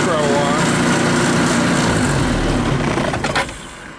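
A Linhai Big Horn 400 UTV engine runs loud and steady close by, then drops off sharply near the end, with no talk over it.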